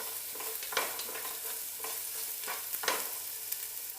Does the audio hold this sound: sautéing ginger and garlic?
yes